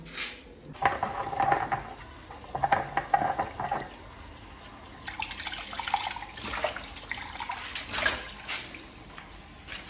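Tap water runs and splashes while a coffee cup is rinsed and washed, with clinks of ceramic and utensils against the sink, close and moderately loud, with no speech.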